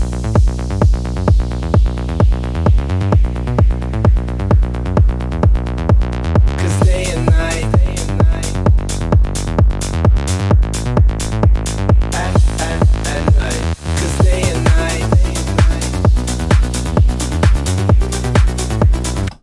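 An electronic remix plays loud and dense, with a steady pulsing beat, deep bass and layered synths that fill out after a few seconds; no talking.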